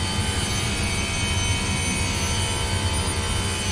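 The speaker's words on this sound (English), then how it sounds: "this sounds like a race car engine" Race car engine sound effect from the NASCAR 22 video game, a continuous loud high-pitched droning roar that holds steady and close for the whole short stretch.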